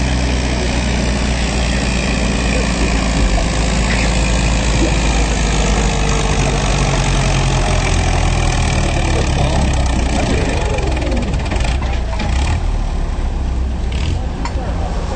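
A Minneapolis tractor idles at a county fair tractor pull, a loud, steady engine drone with constant mid-range rumble filling the whole stretch, ending with a slight dip near the close.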